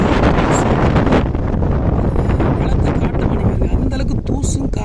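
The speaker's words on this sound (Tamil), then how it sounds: "அங்கே கிடக்கிற போட்டு கூட தெரியாத அளவுக்கு தூசும் காற்றும் எந்த அளவுக்கு நிற்கி பாருங்க சரியான காற்று" Strong seaside wind roars steadily across the microphone, carrying blown dust and sand, with loud buffeting gusts throughout and no talk.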